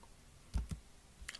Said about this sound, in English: Click the terms and conditions button